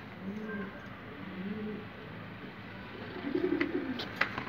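Pigeons coo in soft low repeated phrases, three close calls spaced over a few seconds, followed by a few faint clicks and rustles.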